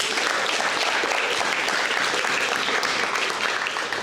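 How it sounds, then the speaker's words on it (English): Audience applause at a Black history teach-in, a dense, even burst of clapping from a crowd that carries steadily throughout. "Another round of applause for Mr."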